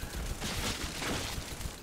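Rockets launching in the Doom-like dungeon shooter game Scathe, rendered as a dense, continuous rushing blast of fire with crackling bursts, loud and unbroken throughout.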